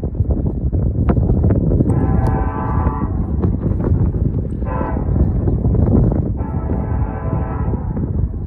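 Strong wind buffeting a microphone outdoors beside abandoned railroad spurs and a grain elevator, a loud continuous low rumbling roar throughout, with faint distant tonal hums rising briefly in the background.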